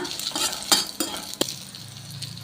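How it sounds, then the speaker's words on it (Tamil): Garlic, dried red chillies and curry leaves frying in oil in a pan, a steady sizzle broken by a few sharp clinks of a spoon stirring against the pan, close and without talk. "கருவேப்பில போட்டிருக்கிறேன்ப்பா பூண்டு வரமிளகா கருவேப்பிலை கொஞ்சம் எண்ணெய் ஊற்றி வறுத்து எடுத்துக்கணும்"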